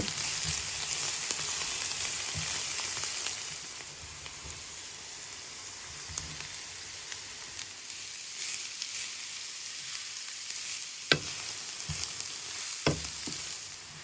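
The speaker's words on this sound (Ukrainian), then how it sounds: "додаю одну морквину, натерту на грубій терці, і обсмажую знову" Steady sizzling of onion and coarsely grated carrot frying in lard, a soft continuous crackle with occasional stirring clicks, no voices.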